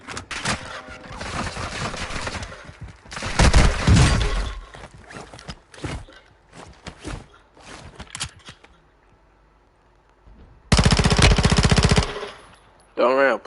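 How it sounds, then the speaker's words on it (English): Rapid automatic gunfire in a shooter video game, two long, loud sustained bursts plus scattered shorter shots and clicking mechanisms, with someone talking over the action. "I keep shooting his ass."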